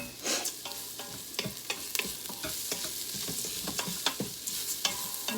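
Rice searing and stirred in a hot quick cooker for cheddar broccoli risotto, giving a steady close sizzle with repeated scraping stir strokes throughout, no talking.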